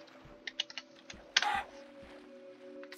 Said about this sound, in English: I'm really good at typing this command.